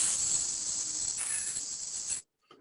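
A human voice imitates a snake with a long, steady hissing S held for about two seconds, close and alone, followed by a faint brief sound.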